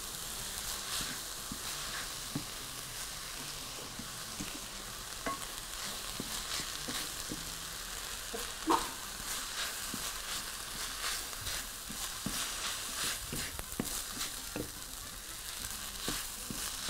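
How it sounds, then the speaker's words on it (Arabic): Meat sautéing with flour in a pan gives a soft, continuous frying crackle with scattered small pops and stirring scrapes, close but fairly quiet, with no talking. "وهياخد كده اهو تشويحة مع اللحمة كلها"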